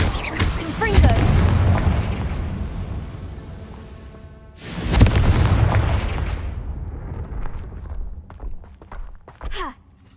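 Confringo blasting curse explosions in the Hogwarts Legacy video game: two loud booming blasts several seconds apart, each with a rumbling decay, followed by smaller bursts.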